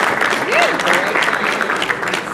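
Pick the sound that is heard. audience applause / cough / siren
audience applause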